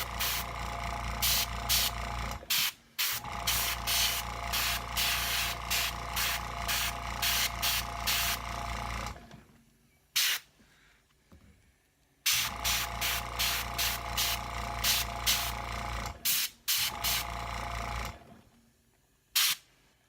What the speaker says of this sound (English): what we're going to do is we're going to spray the veins